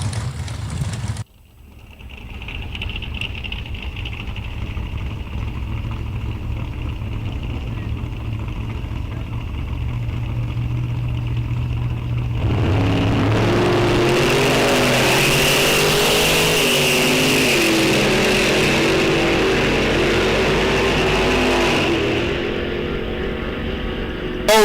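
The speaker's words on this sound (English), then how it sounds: "Tevin Zavagil, 9:44 over here right in the wheelie poppin' Cavalier" Two drag racing cars, one a wheelie-popping Chevrolet Cavalier, launch at a Sunoco Race Fuels ET Series event; steady idle and staging rumble swell into a loud, sustained full-throttle roar that holds for several seconds before easing slightly.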